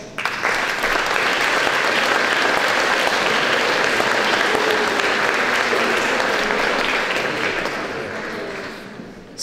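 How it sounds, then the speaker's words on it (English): An audience at the Oxford art fair awards applauds the exhibitors, a loud, continuous round of clapping from a large crowd that holds steady for several seconds before easing slightly. "Please give them an applause."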